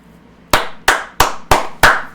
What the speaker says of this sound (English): Just a round of applause for that one.